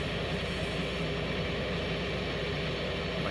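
Steady, loud jet roar from an F-18 in the X-Plane 11 flight simulator flying a night pattern, a broad continuous rushing engine noise that holds level throughout with no talking.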